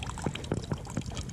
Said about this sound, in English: dangling down to the Sawyer filter, peeing right into my pot